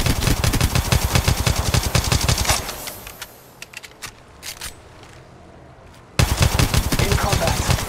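Rapid automatic gunfire in the Apex Legends battle royale shooter, loud bursts of closely spaced shots that stop for a few seconds of near-quiet, then resume just as dense.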